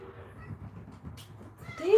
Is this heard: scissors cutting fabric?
no